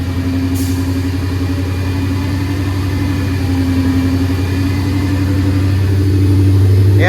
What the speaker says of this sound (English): You give it some throttle and it lifts itself up.